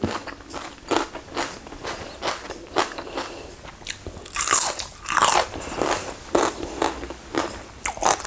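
Someone takes repeated crisp, close-up bites of an Isaan bee mushroom salad (koi het phueng), giving a steady rhythm of sharp crunches and chewing with no talking.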